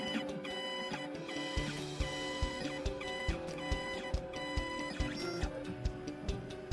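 A 2M2 Tank 2 Pro key cutting machine decodes the point depths of a dimple key, giving a steady motor whir with regular sharp clicks and ticks as the probe steps through each point.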